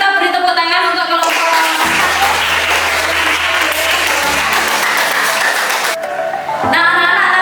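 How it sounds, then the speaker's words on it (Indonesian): Classroom pupils clap for a group after a discussion, a loud, dense burst of applause lasting several seconds, with a teacher's voice before and after it. "Kalau begitu kita beri tepuk tangan untuk kelompok."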